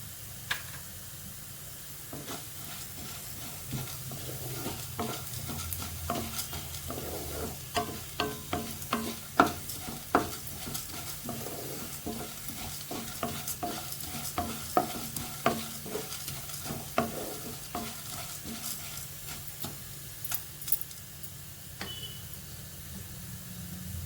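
Coriander seeds and cumin dry-roast in a pan, giving a steady soft hiss with many quick rattling stirs and scrapes of the spoon repeating throughout, close and fairly quiet.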